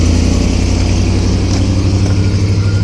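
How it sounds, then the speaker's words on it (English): The engine of a small private garbage truck rumbles nearby at a steady idle with a deep, loud and constant drone, heard alone. "That is the smallest garbage truck."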